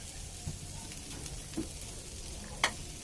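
Green chillies, chopped garlic and onion sizzle in hot oil in a pan, a steady close frying hiss with a few scattered pops and stirring clinks.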